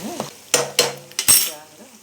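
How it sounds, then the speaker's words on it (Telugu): Cumin and mustard seeds are dropped into a hot pan, giving a few sharp metallic clinks and brief bursts of crackle spaced across two seconds, with faint speech at the start and end. "ఇదిగోండి జీలకర్ర, ఇవి ఆవాలు, ఆవాలు ఇవన్నీ వేసుకొని"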